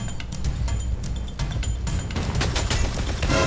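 Rapid gunfire in a video game crackles in close bursts, shots coming in dense volleys and fading briefly before loud firing picks up again toward the end.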